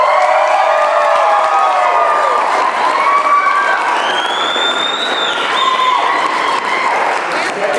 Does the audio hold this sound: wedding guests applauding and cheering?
yes